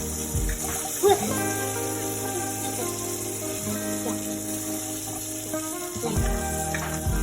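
Fish frying in a hot pan crackles in a steady, close sizzle that runs throughout, with a few soft knocks from the pan.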